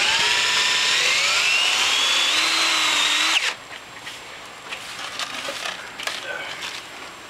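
A power drill whines loudly at high pitch, its tone shifting as a self-drilling, self-tapping screw drives in, then cuts off, leaving low background noise and light clatter.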